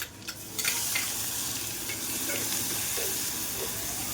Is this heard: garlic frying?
yes